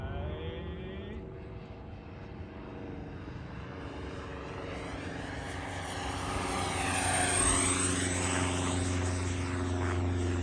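A FlyFans twin 64mm EDF MiG-25 Foxbat model jet makes a flyby, its ducted-fan whine growing louder with a sweeping Doppler pitch shift as it passes, over a steady low background hum.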